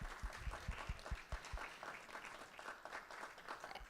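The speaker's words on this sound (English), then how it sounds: "May we give them a round of applause" Round of applause from an audience at a community event on Memphis food-insecurity initiatives, dense steady clapping across the whole stretch with a few louder thumps near the start.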